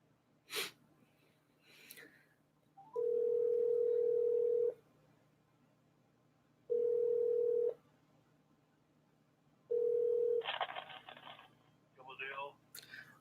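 Telephone dial tones sound while a call is placed during a Korean live broadcast: three steady electronic beeps of differing length with pauses between, followed by brief faint clicks and quiet voice sounds, close and fairly soft.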